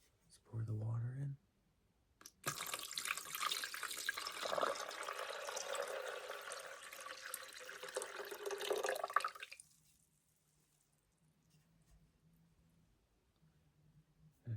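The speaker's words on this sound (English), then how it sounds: "let's pour the water in" Water pours steadily into a coffee maker or cup for about seven seconds, a continuous close splashing flow, preceded by a brief whispered voice and followed by quiet low hum.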